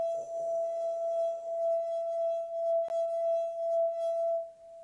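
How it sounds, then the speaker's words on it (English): A wine glass singing as a wet finger circles its rim: a pure, steady sustained tone with a faint rubbing texture, close and clear, with one brief tap partway through. "So what you're hearing is the wine glass vibrating at its"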